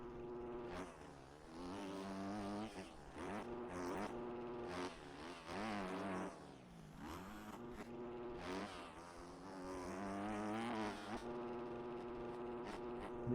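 A Yamaha YZ250F dirt bike in the motocross game MX Bikes revs steadily, its buzzing four-stroke note rising and falling as the throttle opens and closes, heard continuously at fairly low volume.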